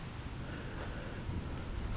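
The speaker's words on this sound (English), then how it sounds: "it's really windy out here" Strong wind buffets the microphone during a motorcycle ride in high winds, a steady, loud, broadband roar with low rumbling gusts throughout and no voices.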